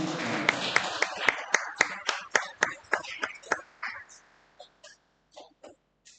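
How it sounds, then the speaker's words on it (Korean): A church congregation at a Korean Sunday worship service claps together in steady rhythmic unison to welcome the pastor, loud and sharp at first, then thinning into scattered, fading claps. "나오실 때 할렐루야 박수로 환영해 주시기"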